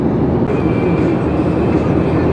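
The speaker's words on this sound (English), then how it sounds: "Here we see another train in the distance." A heavy freight train rumbles past steadily in a loud, continuous roar near Williams, Arizona, with a faint high whine running through.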